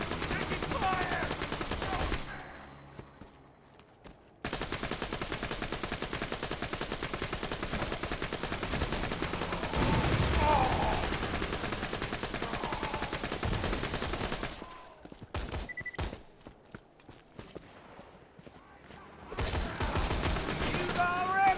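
Rapid bursts of gunfire from the video game Borderlands: The Handsome Collection rattle in repeated volleys with short gaps between them, mixed with game voices calling out.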